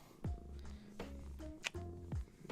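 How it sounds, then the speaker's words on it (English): A cat purring up close, a soft rumbling with a steady rhythm of breathing cycles, faint and alone with no talk over it. "Can y'all hear him purring?"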